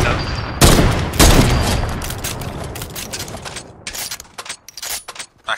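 Video game gunfire in rapid bursts, with loud sustained volleys early on and then scattered, sharper single shots and short clusters toward the end, close and dense.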